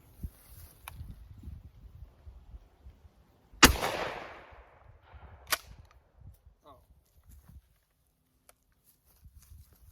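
A single loud 12 gauge shotgun blast fired with a modified choke at a 30-yard target outdoors, a sharp crack with a decaying tail, followed by a fainter distant report, amid light wind and quiet ambience.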